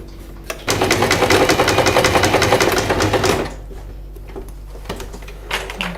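An electric sewing machine runs a seam on the body of an Elsa doll, a loud, fast, steady whir of stitching for about three seconds, then stops, followed by quiet handling noises.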